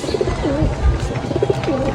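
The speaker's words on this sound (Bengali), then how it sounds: "এই যে আমার কবুতরগুলা" Pet pigeons cooing close by, a couple of soft rolling coos repeating over a low background hum.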